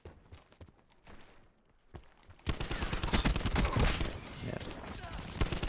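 Dense, loud rapid gunfire from Call of Duty Black Ops 4 fills the second half after quieter game ambience, with a player speaking briefly over it.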